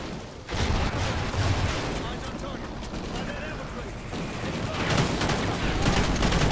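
Heavy bursts of machine gun fire and explosions boom in the Call of Duty: Ghosts mission Atlas Falls, loud and continuous, with a voice talking over the chaos.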